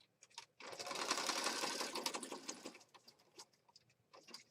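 A sewing machine makes one fast stitching burst of about two seconds and then stops. Soft clicks follow as the thread is cut. It is fairly quiet and close.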